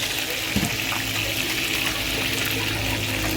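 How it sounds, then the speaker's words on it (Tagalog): A cup of water is poured as broth into a pan of sautéed sardines, a steady splashing trickle close by, with kitchen noise around it. "lagyan po natin ng isang tasang sabaw ayan tubig"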